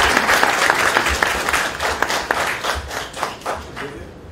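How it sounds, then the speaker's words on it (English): An audience at a lecture gives a warm round of applause, dense clapping from many hands that stays steady and then thins slightly toward the end. "Please welcome Mr. Maroof Raza with a big round of applause"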